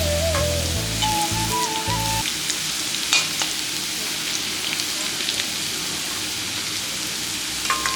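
Oil sizzles in a pan with a steady, close crackle as food fries for a dried-fish recipe, with a few brief tonal sounds at the start before the frying continues alone.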